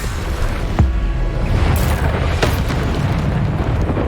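A Descendo spell slams down during Hogwarts Legacy combat on hard mode, a loud booming impact with a sharp burst near the start and a second crack later, over continuous rumbling battle noise.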